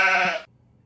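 A voice imitates a sheep's baa, used in place of a bleeped word on a vegan radio show. It is one short, close, nasal bleat lasting under half a second, followed by near silence.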